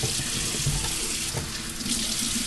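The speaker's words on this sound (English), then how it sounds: "I'm going to wash my hands." Tap water runs steadily into a kitchen sink as hands are washed, a continuous close splashing rush with no voices.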